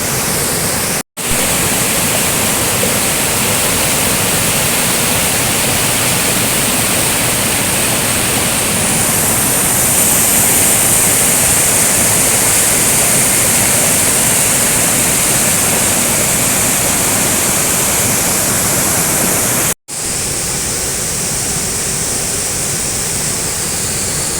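Urulikkund waterfall in Kannur, Kerala, thunders as a steady, loud, full rush of falling water heard up close, broken only by two brief dropouts.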